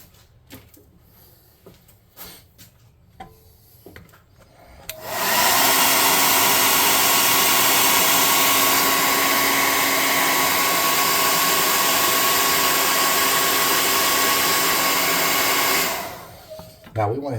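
A hair dryer blows on freshly painted tabletop miniatures, switching on after a few seconds of quiet handling sounds and running loud and steady for about eleven seconds before cutting off.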